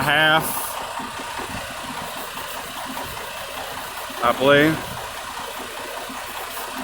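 A Harbor Freight Predator 4000 generator with a 212cc engine runs at a steady close idle-like drone, with someone speaking over it in two short bursts.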